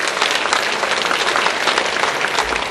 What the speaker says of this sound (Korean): 한번 박수 한번 해주시기 바랍니다.